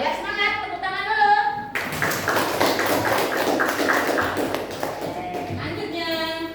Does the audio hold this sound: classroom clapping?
yes